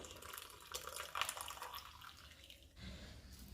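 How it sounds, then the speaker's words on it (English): Freshly made tea poured through a filter into a bowl gives a soft, continuous trickling stream for a few seconds, quiet and close, with a brief shift in tone near the end. "Pour the tea down to up."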